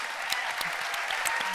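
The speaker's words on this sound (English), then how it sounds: "that deserves applause for sure." Applause from a political rally audience rises briefly, with scattered claps over a soft crowd bed, fairly quiet and distant and lasting only a moment.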